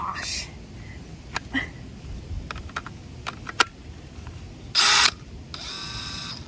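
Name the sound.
drilling pilot holes in van roof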